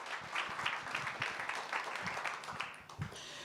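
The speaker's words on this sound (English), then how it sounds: "Let's give them another round of applause." Workshop attendees at a capacity building session applaud in a soft, distant patter of clapping that stays fairly even before tapering near the end.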